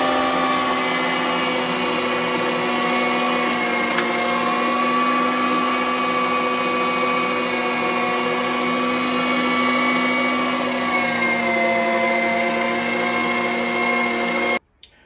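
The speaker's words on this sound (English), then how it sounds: "I'm going to get this stuff grinded here, and I'm going to show you what that looks like" An electric meat grinder runs continuously, grinding pork, beef, potatoes and onions for homemade potato sausage, a loud steady motor hum with a whine that holds for about fifteen seconds, then cuts off abruptly at the end.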